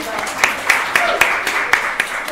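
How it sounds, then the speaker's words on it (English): A workshop audience claps in a brief burst with a regular, almost rhythmic pulse, moderately loud, with voices murmuring underneath. "All of you deserve a round of applause for yourself."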